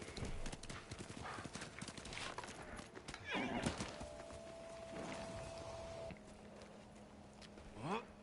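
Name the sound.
horse galloping hooves in Ghost of Tsushima video game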